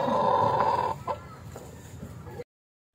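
Chickens cluck close by at a rural spot in Occidental Mindoro, a loud burst of clucking that fades into softer scattered clucks before cutting off abruptly.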